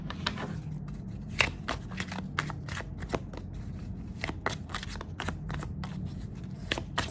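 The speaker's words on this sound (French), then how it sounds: "Je vais encore frapper les cartes" A deck of tarot cards shuffled up close, with quick papery riffles and soft slaps repeating in an irregular rhythm over a low background hum, no speech.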